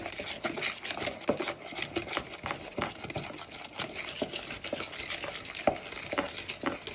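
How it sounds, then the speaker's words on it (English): A hand whisk beating a strawberry tart filling mixture in a bowl, giving a continuous, quiet wet swishing with light rhythmic clicks and taps against the bowl, close up and without talk. "And now with your whisk, you want to proper whisk that in."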